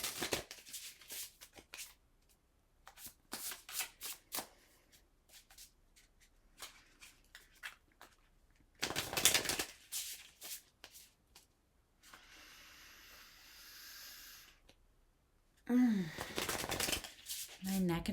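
Tarot cards are shuffled in repeated short, rustling bursts with brief pauses between them, close and fairly quiet, with a voice briefly heard near the end.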